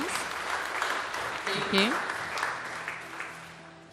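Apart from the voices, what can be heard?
audience applause for Madam Pauline Karirwa at a party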